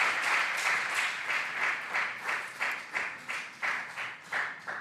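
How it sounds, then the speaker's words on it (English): An audience applauds quiz contestants at a regional junior science and maths quiz contest in Ashanti. Dense clapping fills the room and then breaks up into a run of rhythmic, evenly spaced claps that gradually fade, with no talking. "A round of applause for them, please."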